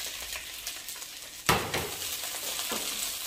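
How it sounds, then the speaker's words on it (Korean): Garlic chive whites hit hot cooking oil in a pan for Chinese-style stir-fried chives, sending up a sudden loud burst of sizzling. The frying crackle then holds steady close by, with light stirring and no voices. "팬에다가 식용유를 두르고 먼저 무엇을 볶아줄까요? 여러분? 네, 부추의 흰 부분을 먼저 넣고 볶아주세요."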